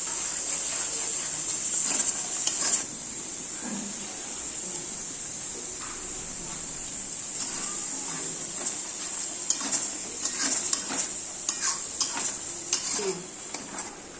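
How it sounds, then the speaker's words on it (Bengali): Onion paste goes into a hot pan for a chicken curry with kasuri methi, raising a steady hiss with scattered clinks and scrapes of stirring. A faint voice can be heard at times. "এরপর আমি পেঁয়াজ বাটাটা দিয়ে দিলাম"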